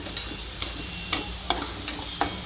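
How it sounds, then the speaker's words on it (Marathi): Green chilies stir-fried in a spoonful of oil for methi usal bhaji give a soft frying hiss, broken by about six sharp spatula scrapes at a roughly even pace, heard up close. "मिरची काढून जरा परतायचं"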